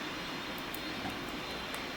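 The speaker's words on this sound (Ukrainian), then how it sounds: "Президентовський літак злітає." A presidential airplane taking off at an airport: a faint, distant, steady engine roar that holds evenly throughout without change.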